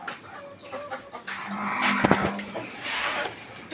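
Silver desi chicken chicks, newly hatched from an incubator, cheep and cluck steadily at close range for a few seconds, with no voices.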